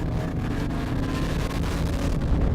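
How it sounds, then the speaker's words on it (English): BMW E46 M3 inline six climbing toward redline, a continuous loud engine roar with wind and road rush, heard from inside the car, building steadily with no speech. "It just keeps building toward redline."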